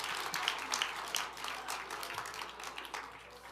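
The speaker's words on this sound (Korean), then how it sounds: "이럴 때 박수 치셔야죠." A church congregation at a new-family welcome service applauds in a steady, moderately distant patter of many hands, continuing for several seconds with a faint murmur of voices underneath.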